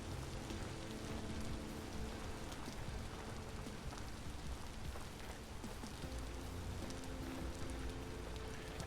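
Rain falls steadily in the video game Vintage Story, a dense, even patter on surfaces that carries on without a break, with faint low tones beneath and no speech.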